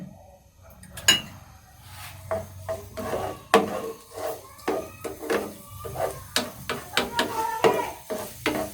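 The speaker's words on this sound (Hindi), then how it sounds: "अब हम इसमें प्याज जो है वो शामिल कर देंगे। इसको ज़रा हमने सौते करना है।" Chopped onion sautéed in two spoons of ghee over medium heat, a soft sizzle beneath repeated sharp scrapes and clacks of a spoon stirring against the pan.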